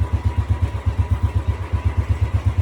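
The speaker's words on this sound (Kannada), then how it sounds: "ಇಲ್ಲಿ ಬೈಕೆಲ್ಲ ಕೋಲ್ಡ್ ಸ್ಟಾರ್ಟ್ ಮಾಡೈತಿ" Motorcycles cold-started and idling before a race, a steady rapid low chugging rhythm of engine pulses, loud and close, with no voices.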